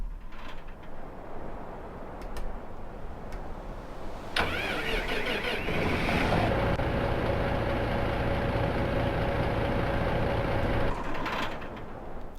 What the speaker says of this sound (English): let me turn the tractor off once again, and then I'll turn it up so you guys can hear the starting sound.